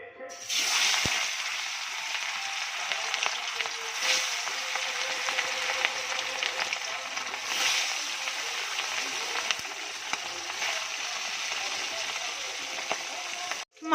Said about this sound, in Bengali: মাছগুলো ভালো করে কড়া করে ভেজে নেবে